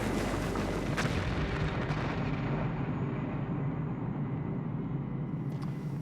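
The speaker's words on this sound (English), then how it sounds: "the Bangalore torpedo has blown a channel right through our barbed wire entanglement" A Bangalore torpedo detonates to blast a channel through a barbed wire entanglement, heard as a sustained, heavy, rumbling roar with dense low-end energy and no speech.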